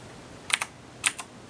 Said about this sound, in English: If you want to turn gaming mode on via the keyboard, you just press the function key and then F10.